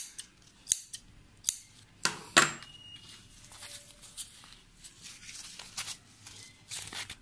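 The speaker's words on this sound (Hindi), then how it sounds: "यहाँ पे कॉर्नर पे कपड़ा कट कर देंगे, बाकी की जगह रहेगा कपड़ा इसी तरह" Scissors snip shirt collar cloth at the corners, a series of sharp, close cuts at an uneven pace, with quieter handling noises and no talk.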